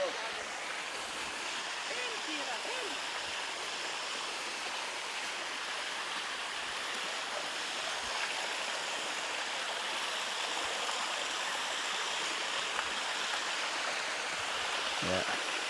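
Steady rushing water fills the scene, a continuous broadband flow like a waterfall or fast stream, with faint voices briefly in the background.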